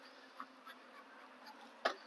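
Faint buzzing of honeybees at an open hive in bad weather, with a few brief louder passes as bees fly close by, against a quiet background.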